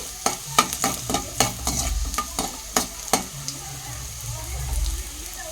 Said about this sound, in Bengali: রসুন কুচিটা আমি ভালো করে ফ্রাই করে নিচ্ছি